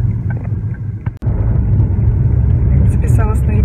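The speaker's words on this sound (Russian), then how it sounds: "Вот если слышно, там у меня все гремит в машине." Constant low rumble of a car's cabin while driving, with loose parts rattling inside the vehicle, heard beneath a voice talking over it.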